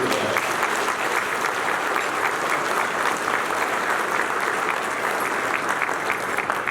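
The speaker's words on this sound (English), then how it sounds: "let's give them a round of applause just for that" A crowd at a trucking hall of fame ceremony claps continuously, a full, steady roar of applause that holds strong from start to finish.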